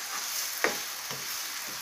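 Red onions frying in a pan while being prepared for a haddock Madras fish curry, a steady soft sizzle with a couple of brief stirring scrapes, close and alone without talk.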